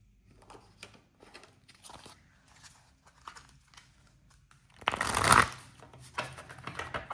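Tea leaf oracle cards being handled and shuffled up close: soft scattered card taps and flicks, then a louder riffle burst lasting about a second, followed by more light card movement.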